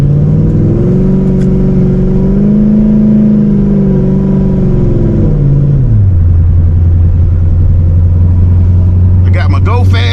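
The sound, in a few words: supercharged C6 Corvette driving on highway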